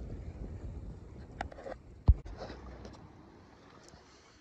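Ultimate 18 trailer sailer sailboat sailing through choppy water, with steady wind buffeting and rushing noise throughout and one sharp knock of the hull or rigging near the middle; no talking.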